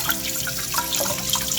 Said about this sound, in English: So now you're going to run it through the water.